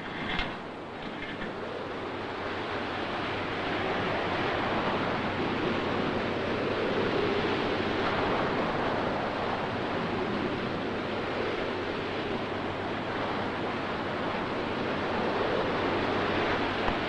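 Crashing waves of a tidal wave in a 1962 film sound effect, a steady, dense roar of surf that runs unbroken and loud for the whole stretch, with no voices.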